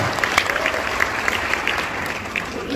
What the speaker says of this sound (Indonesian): Beri tepuk tangan yang meriah bagi Tuhan.